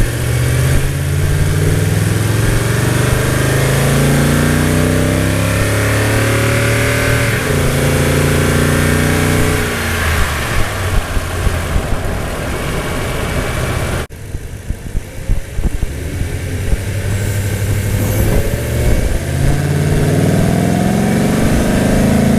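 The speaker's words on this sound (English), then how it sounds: "just a little more noise coming out of the engine bay" A Toyota truck with a TRD intake and dual exhaust, rated 381 horsepower, revs its engine in a steady, loud, close drone with rising and falling pitch and a brief dip midway.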